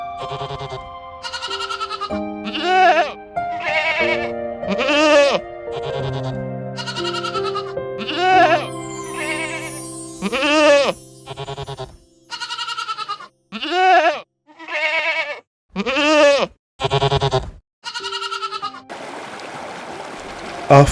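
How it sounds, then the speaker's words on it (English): Rare big-horned blue sheep on Himalayan mountain slopes bleating repeatedly, a long series of loud, wavering calls one after another, close and distinct, with brief pauses between them and a gust of wind at the end. "Grazing on both sides of the mountain slopes are the rare blue sheep with their big horns."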